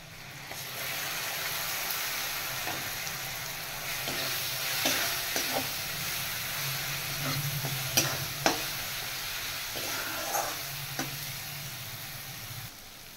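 A masala with chilli powder and turmeric frying in a pan, a continuous dense sizzle over a long stretch, punctuated by occasional spatula scrapes and knocks, with a low hum underneath; close and steady, no talking.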